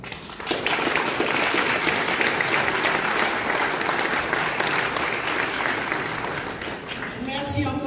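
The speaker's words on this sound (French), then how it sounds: "Je vous demande de vraiment féliciter et d'applaudir les exposants." A large audience at an opening conference for an exhibition applauds the exhibitors, a loud, dense and sustained clapping that runs evenly for several seconds before a voice comes in at the end.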